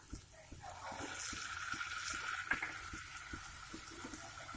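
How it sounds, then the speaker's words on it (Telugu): A glass of water is poured into a cooking pot of pakodi pulusu with fried onions, chilli powder and tamarind pulp, giving a short steady splashing pour of moderate loudness with faint kitchen clatter. "ఒక గ్లాస్ వాటర్ పోసుకోవాలి."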